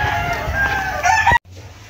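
A rooster crows loudly and close at a Philippine poultry farm, a long sustained call with a few clucks near its end before it cuts off abruptly into quieter background.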